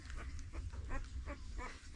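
A newborn puppy on a farm gives soft, repeated whining squeaks in a quick rhythm, faint and close over a low background rumble.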